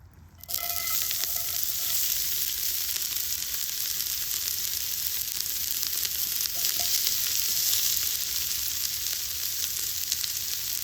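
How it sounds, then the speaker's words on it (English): A World War One British soldier's hash fries in a cast iron pan, a steady, close, unbroken sizzle that holds for the full length with no talking over it. "We will be doing the cooking in a proper cast iron pan."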